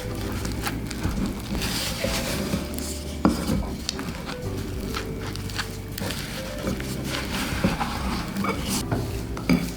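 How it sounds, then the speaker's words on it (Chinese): Spatula stirring wet, sticky Liège waffle dough with chocolate in a bowl, steady scraping and knocking against the bowl with thick sticky squelches, close and continuous. "由于面团比较湿黏，我们这里使用刮刀来帮助搅拌"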